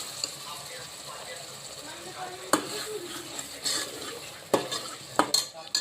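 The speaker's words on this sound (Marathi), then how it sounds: "ही बघा मस्त अशी आमटीला फोडणी दिलेली आहे मी" Tempering (phodni) for Marathi amti dal sizzles in a pan, a steady hiss broken by several sharp scrapes and clinks of a spoon stirring against metal, fairly close, with no talking.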